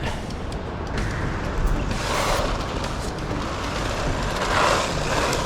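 An Rlaarlo 1/14 RC truggy on puffy tires runs along a road, giving a steady broadband whir and rumble that swells briefly around the middle and again near the end, with no voices.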